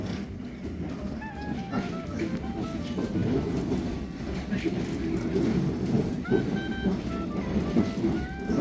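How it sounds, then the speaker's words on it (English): A shaky London Underground Metropolitan line train rumbles and rattles steadily, with squealing wheel tones rising over a continuous loud roar heard from inside the carriage. "It's a bit of a shaky train"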